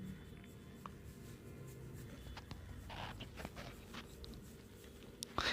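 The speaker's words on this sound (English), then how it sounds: "let's start with drawing a small round over here" Pencil drawing a small circle in a drawing book, a soft continuous scratchy scraping close up, with a few light taps and brief louder scrapes near the end.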